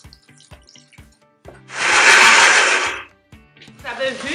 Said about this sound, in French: On ajoute toujours un peu d'eau.